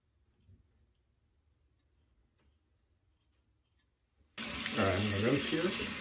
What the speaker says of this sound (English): All right, I'm gonna rinse here.